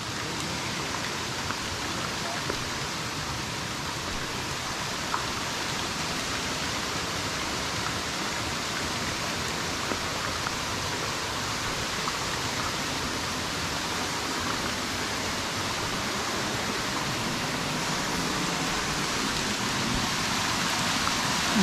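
Water from the multi-tiered Pin Pin waterfall at Bang Wad Dam in Kathu, Phuket pours down in a steady, full, hissing rush that holds unbroken and fairly close for the whole stretch, with no voices.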